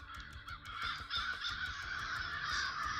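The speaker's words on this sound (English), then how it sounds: "Look at how many crows there are." A large flock of crows caws from a tree, with many harsh calls overlapping into a dense, continuous racket. Faint rhythmic tapping can be heard in the background.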